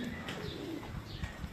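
Pigeons on a rooftop coo softly, a faint low murmur against a steady background hiss.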